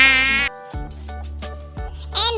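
A mosquito's thin, steady buzzing whine runs through the short stretch, loud and close, with no talking.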